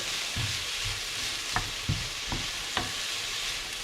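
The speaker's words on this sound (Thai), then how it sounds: "ผัดให้หอมค่ะ" Mixed vegetables stir-fried in a pan: a soft, close sizzle with a few scraping strokes of a spatula and light clinks, fairly quiet, with no voices.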